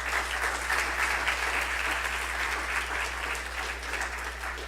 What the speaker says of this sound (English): So let's give him also a round of applause